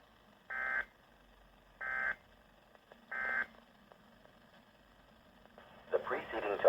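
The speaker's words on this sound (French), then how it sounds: "It is intended to test the weather radio tone alarm feature." A weather radio tone alarm test sounds three evenly spaced, steady electronic tones, each under a second long and well apart, followed by a burst of broadcast noise near the end.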